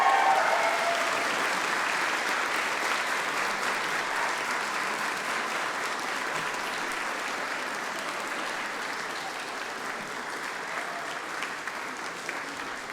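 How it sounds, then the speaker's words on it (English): A large university graduation audience gives a steady, sustained roar of applause, dense and continuous, fading very slightly over time. "Please show your appreciation to the people who have supported you. Clap, cheer, whistle."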